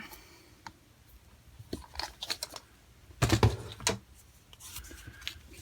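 A piece of card gets trimmed with scattered crisp snips and rustles, a louder burst of cutting near the middle, then quieter handling of the card.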